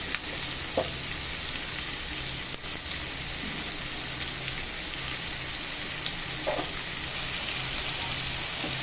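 Onions sautéing in a pan with rock salt, giving a steady, dense sizzle like light rain that holds throughout, with a few faint stirring taps, close and fairly loud, no voices.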